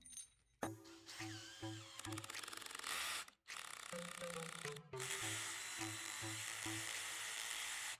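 DeWalt DCD791 brushless cordless screwdriver whirring in short bursts and longer steady runs as it drives a screw, close and fairly quiet, with brief stops between bursts.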